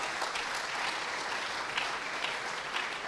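Lecture audience at a history talk on medieval Florence and its merchants breaking into sustained applause, a dense, even wash of many hands clapping at moderate distance, steady throughout without voices.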